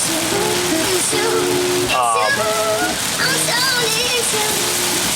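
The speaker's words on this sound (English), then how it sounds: "I kind of like the rain." Steady rain drumming on a moving car, a constant hiss and patter, with voices talking and humming underneath.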